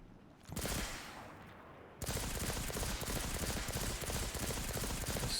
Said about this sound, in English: Oh, this is a pulse rifle.